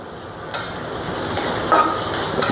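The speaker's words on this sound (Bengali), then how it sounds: "লাল লাল করে পেঁয়াজ রসুন ভাজিয়ে নেব।" Chopped onion and garlic frying in oil until browned, a constant close sizzle broken by scraping stirs and a few louder spatters, with no one talking.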